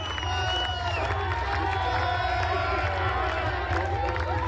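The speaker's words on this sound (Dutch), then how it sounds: "het publiek is uitzinnig" A wildly cheering crowd roars continuously at an outdoor event, with tonal whistles and shouts rising over a steady rumble of voices, while a commentator speaks over it.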